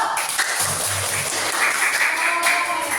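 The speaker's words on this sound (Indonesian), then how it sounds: "Tepuk tangan dulu" A classroom of children claps their hands in a steady burst of applause that lasts throughout, with children's voices mixed into the noise.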